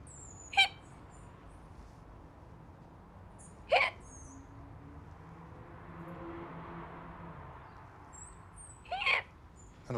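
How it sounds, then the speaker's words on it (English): A woman has nervous hiccups: three sharp, separate hiccups spaced several seconds apart, close and clear over quiet room tone. "If she stops, she gets nervous hiccups."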